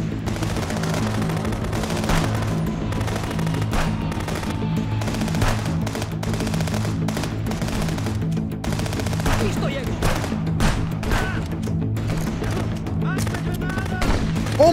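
Rapid gunfire from the Contraband Police video game, pistol shots cracking repeatedly over a dense, constant bed of game music and ambience, with a voice talking occasionally.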